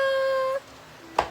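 A cat gives one long, clear, close meow, followed after a brief pause by a short sharp meow or squeak.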